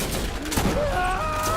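Gunfire from a deployed turret in the video game Borderlands, a quick burst of rapid shots with game effects mixed in, fairly close and fairly loud.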